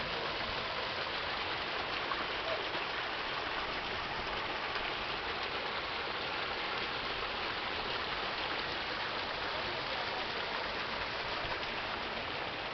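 A freshwater stream at Ucanán rushes in a soft, steady wash that holds constant throughout, faint and without voices.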